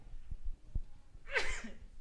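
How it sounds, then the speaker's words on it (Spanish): A preacher sneezes once in the middle of a sermon, a sharp burst after some quiet breathing and light handling noise, loud and close with no talk over it. "primera vez que estornudo en predicando"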